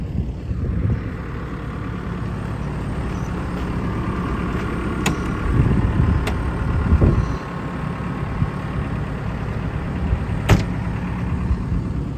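A backhoe engine runs steadily close by while digging out a hole under a house, a continuous low diesel rumble with a few faint clicks and clanks over it.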